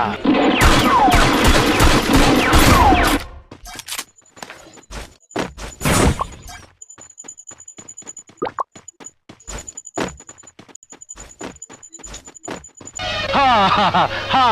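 Sharp bursts of pistol fire crack in quick, irregular succession, loud and close, between stretches of shouting voices.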